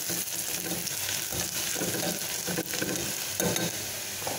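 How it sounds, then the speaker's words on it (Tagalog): Garlic sizzling and being stirred in hot cooking oil in a pan for monggo guisado, a loud, steady hiss of frying with scraping stir strokes throughout. "Mainit ang aking mantika. Lagyan ng konting bawang."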